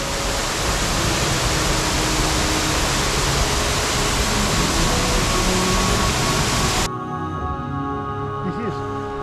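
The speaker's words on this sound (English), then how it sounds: "and then you can see the waterfall." A waterfall at the end of a difficult rope climb roars as a loud, steady broadband wash that drops off abruptly near the end, leaving a quieter background.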